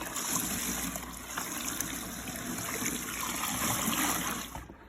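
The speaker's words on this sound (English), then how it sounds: "Cleaning the cylinder with soap and water." Water runs and trickles steadily while a cylinder from a Kawasaki STX 1100 DI jet ski engine is washed with soap, a close, continuous splashing rinse with small spatters that stops abruptly at the end.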